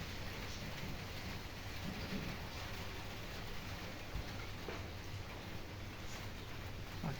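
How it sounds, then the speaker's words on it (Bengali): Rain falls steadily outdoors in Rajshahi during a spell of several rainy days, a soft, even hiss with low background rumble and no voices. "এই মেঘগুলো থেকে মাঝে মাঝে বৃষ্টি হচ্ছে"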